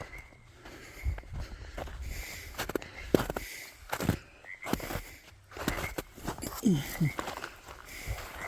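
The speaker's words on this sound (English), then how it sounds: "Froggies." Frogs croak in scattered calls at a lakeside, moderately faint, mixed with footsteps and rustling, while people talk nearby.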